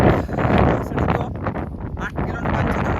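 Strong wind roars and buffets the microphone at sea while fishermen push a boat, a continuous gusting rush with breathy surges throughout.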